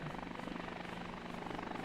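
Helicopter in Workers & Resources: Soviet Republic, a steady rapid rotor thump with a droning engine, continuous and moderately quiet, with no voices.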